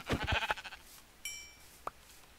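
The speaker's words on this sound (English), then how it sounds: "Sheep." A single short sheep bleat from Minecraft rings out after a brief burst of game sounds, followed by a faint click, fairly close and clear with no talking.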